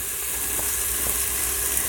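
A finely chopped medium onion sizzling in butter and oil in an Instant Pot on sauté mode, a steady bright hiss, close and fairly loud, with no voices.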